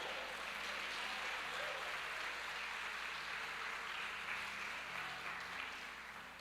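Church congregation at an evening service applauding together, a steady wash of clapping that sounds distant and faint, continuing evenly and easing slightly at the end.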